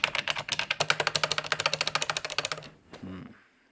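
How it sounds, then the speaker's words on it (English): Rapid, steady clicking of the mechanical keys on a 1980s Texas Instruments TI-5160 II calculator, about twenty presses in quick rhythm, close and crisp, then a short low-pitched electronic tone. "And we do have a mechanical keyboard, it sounds like."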